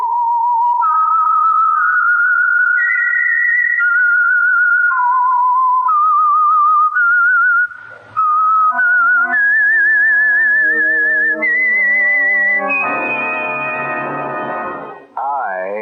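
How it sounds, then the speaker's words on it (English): A clear whistled tune of rising and falling notes, the signature of the radio program The Whistler, loud and close, ending with a brief sustained orchestral chord. "the signal to listen for is this whistle"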